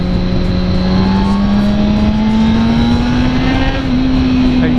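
A motorcycle engine holds a loud, steady drone that climbs gradually in pitch as the bike accelerates to overtake a van, with strong wind rumble over the whole stretch.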